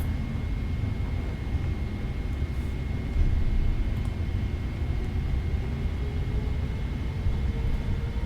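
A British Airways Boeing 777-300ER's engines roar steadily through the takeoff roll, a loud, even broadband rush with a constant whine above it and a slight surge near the middle, with no voices.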